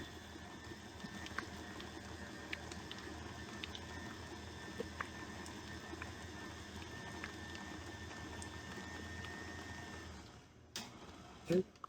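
An electric mixer whirs steadily through confetti cheesecake batter, a constant mechanical buzz with faint ticking that cuts off near the end, followed by a brief knock.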